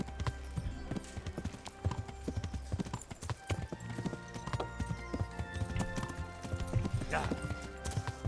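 Horse hooves clip-clopping in a rhythmic gait during riding in the medieval video game Kingdom Come: Deliverance, mixed with game music and a brief whinny, while people talk over it.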